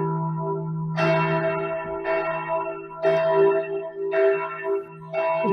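Church bells ring from a bell tower, probably driven by electronic motors, with loud clear strikes about once a second. Each strike leaves a long humming ring that overlaps the next.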